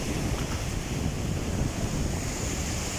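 Rough Arabian Sea waves heave and wash steadily against a backdrop of gusting wind, with a constant broadband roar, close and loud, near fishing trawlers being lowered into the water for an afternoon trip.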